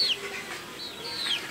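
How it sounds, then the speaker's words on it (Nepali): A small chick gives a couple of faint, high cheeps, one at the start and one near the end, over a quiet outdoor background. "सानो छ चल्ला"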